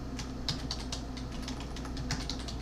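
Keys on a computer keyboard clatter in quick, uneven taps as a prompt is typed, close and fairly quiet, with no one speaking.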